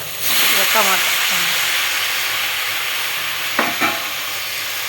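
Food fries loudly in a pan ahead of adding tomatoes, a dense, constant sizzling hiss with stirring scrapes and a couple of sharper clatters late on, while a voice is briefly heard early.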